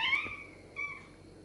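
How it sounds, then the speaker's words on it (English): A pet cat named Butters gives a short, odd, rising meow, then a second softer cry, fairly quiet in an indoor kitchen. "You have the weirdest meow."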